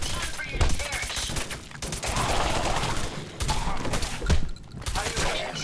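Enemy gunfire in Fallout 4 crackles in dense, rapid bursts of overlapping shots with a few heavier bangs, loud and continuous across the scene, with some voice activity mixed underneath.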